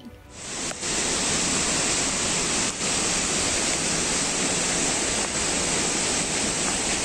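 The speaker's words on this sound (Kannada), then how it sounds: "ಹಾಲಿನ ನೊರೆಯಂತೆ ಜಲಪಾತ ಹರಿಯುತ್ತಿದ್ದು" The Dudhsagar waterfall in full monsoon spate roars with a loud, dense, unbroken rush of falling water, continuous and overwhelming with no voices present.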